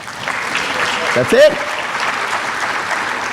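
Audience applause at a school board meeting honoring student award winners, a steady broadband clapping that fills the clip, with a brief spoken phrase breaking through near the middle.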